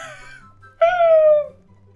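A dog character in the Roblox game lets out a single short, clear whining howl that slides slightly downward, with a faint lower sound before it.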